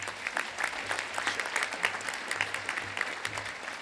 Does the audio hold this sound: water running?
no